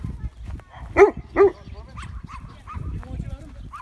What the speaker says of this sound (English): My aunt's dog.